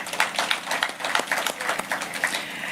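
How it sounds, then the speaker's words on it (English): A crowd applauding volunteers at a Safari Rally motorsport academy launch in Kasarani, a dense, steady patter of many hands clapping at moderate volume. "I will ask for a round of applause for all the volunteers involved"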